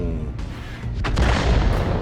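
A Bat.-Châtillon 155 58 tank destroyer's gun fires in a tank video game, a loud booming shot that swells into a broad, sustained blast and rumble filling the second half of the moment.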